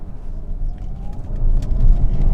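A 2025 Hyundai Santa Fe's engine drones low and steady, swelling louder toward the end as the revs climb with a slightly rough, uneven tone.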